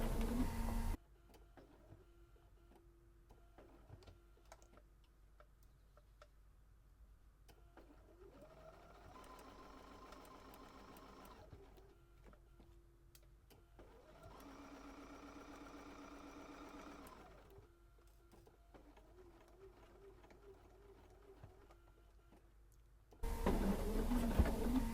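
A sewing machine stitches forward and then backstitches in two sustained whirring runs separated by quieter pauses and small mechanical clicks, fairly faint and close, with no talking.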